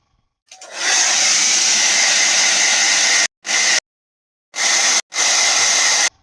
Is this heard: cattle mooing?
no